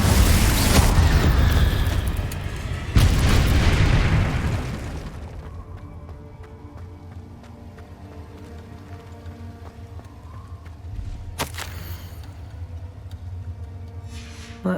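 A Confringo blasting curse erupts in the video game Hogwarts Legacy as two loud, booming explosions in quick succession, followed by a rumbling decay and low ambient hum, with a smaller burst near the end.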